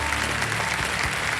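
Dense, even applause from a KBC game show studio audience fills the whole moment, loud and continuous with no voices over it.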